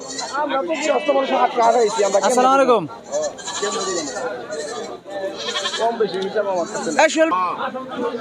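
Goats and sheep bleat again and again over a busy goat market crowd in Bangladesh, with people talking and greeting each other close by.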